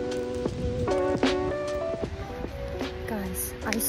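Steady rain falls outdoors, a continuous soft patter throughout while people talk over it.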